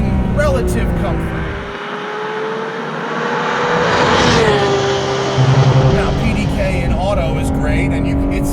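A Porsche 991.2 GT3 RS sports car driving, its loud engine rising and falling through revs with shifts, while someone talks over it throughout.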